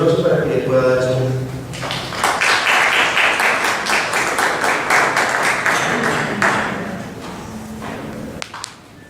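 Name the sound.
audience applause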